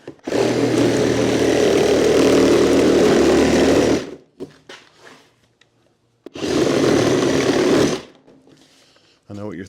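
A zero-turn lawnmower engine roars loudly and steadily for about four seconds, cuts out, then revs again for a second long burst, with brief quieter sounds between.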